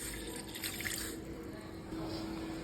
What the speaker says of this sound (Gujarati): એક ગ્લાસ પાણી ગરમ મૂકીશું